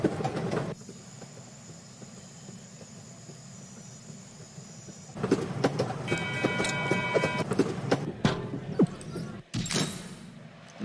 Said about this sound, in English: All right, lads, train's here.